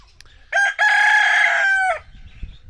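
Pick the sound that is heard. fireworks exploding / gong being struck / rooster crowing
rooster crowing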